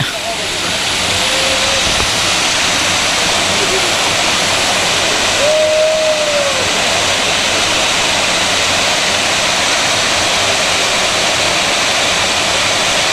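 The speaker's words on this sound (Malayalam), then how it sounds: "ഷട്ടറുകൾ പത്ത് സെന്റിമീറ്റർ വീതം ഉയർത്തിയാണ് വെള്ളം പുറത്തേക്ക് ഒഴുക്കുന്നത്" Two shutters of the Kundala dam, each raised ten centimetres after heavy rain, release water in a loud, unbroken rushing roar that holds steady throughout, with a faint voice briefly audible beneath it.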